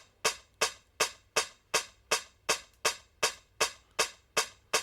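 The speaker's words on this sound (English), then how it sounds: "I wanted to use like a real dirty, like lo-fi kind of sounding hi-hat." A dirty lo-fi Amblo hi-hat sample loops in FL Studio, twelve sharp bright hits in an even steady rhythm, each decaying quickly into a quiet background, with no voices.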